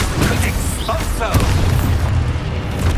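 Expulso exploding spell cast in the video game Hogwarts Legacy, a loud booming blast with crackling bursts that fills the whole moment amid dense game noise.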